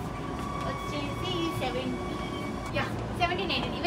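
A train interior in Korea carries a steady low rumble and hum of the carriage, with faint air conditioning whir and brief clicks, while a person talks over it.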